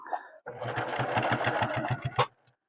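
Sewing machine stitching a fabric bowl cozy, a loud steady run of rapid needle thumps lasting about two seconds after a brief lead-in, stopping abruptly with a final clunk.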